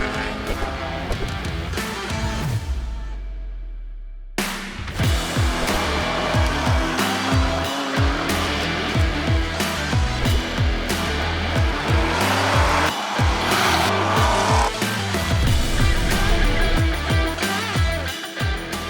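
A race car lapping a track, its engine rising and falling through repeated gear changes and revs, loud and close, with a brief sweeping pass near the start and no talk over it.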